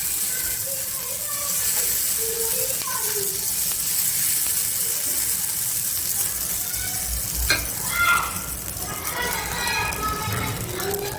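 Batter spooned over sesame seeds in a hot kadai sizzles steadily for a snack pancake, with a soft frying hiss throughout and brief scraping clicks near the end; someone talks over it.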